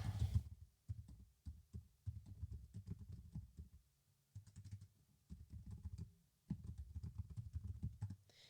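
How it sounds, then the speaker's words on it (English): Typing on a computer keyboard during a live stream, with bursts of close, quick key clicks separated by brief pauses, alone without talk. "So I will type it in here, Chuck."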